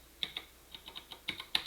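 Quiet, irregular keystrokes on a computer keyboard while entering a command in a computer science class, about ten soft clicks in under two seconds with no talking.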